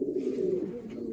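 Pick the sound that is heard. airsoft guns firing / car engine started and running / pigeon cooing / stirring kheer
pigeon cooing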